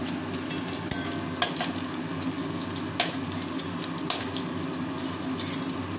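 Paneer pieces frying in a pan for an aloo paneer curry, a steady close sizzle with occasional sharp utensil knocks and scrapes, no talk.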